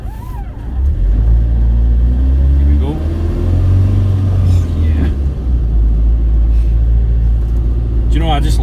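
An Iveco Daily campervan with a 2.3 engine roars steadily while driving, a loud low drone that holds and rises through the gears, with a voice speaking briefly over it near the start and end.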